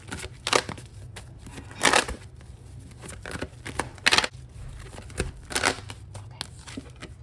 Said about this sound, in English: So let's shuffle a little bit more.